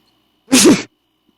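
One sharp, loud sneeze rings out close by, with quiet before and after.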